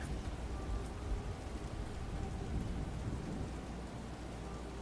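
Steady heavy rain pours down alongside rolling thunder in a continuous, dense storm wash, with no voices present.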